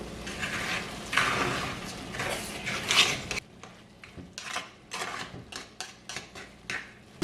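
A spoon is worked through boiled potatoes in a covered pot for potato bonda. A hissing stretch gives way to irregular close metallic clinks and scrapes against the pot, with no talking.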